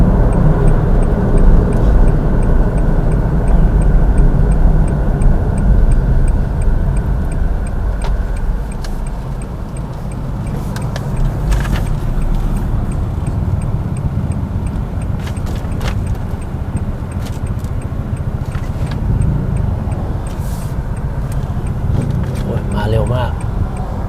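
A 2015 Honda Mobilio 1.5 RS seven-seater with a 1,500 cc engine carries out a U-turn, its low steady cabin engine hum and road noise running under someone talking in Thai, with a few faint clicks.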